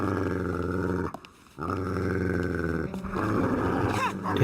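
Dogs growling in the video game Fragile Dreams, a low, rumbling snarl that runs steadily with one brief pause, close and fairly loud, mixed with other game sounds.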